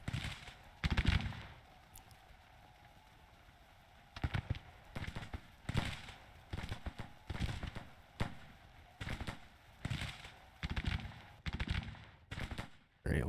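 A Civil War brigade of massed infantry in the strategy game Grand Tactician fires irregular volleys of crackling musketry, burst after burst in rapid, overlapping clusters, fairly near, after a brief lull at the start.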